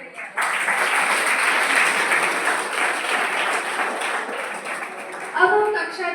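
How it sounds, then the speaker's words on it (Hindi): Students and guests at a Class 10 farewell function at Gyan Bharti Public School break into loud, sustained applause to thank Kaka ji, a dense continuous clapping that tapers slightly, with a voice starting up near the end. "एक बार जोरदार तालियों के साथ काका जी की आभार व्यक्त करें।"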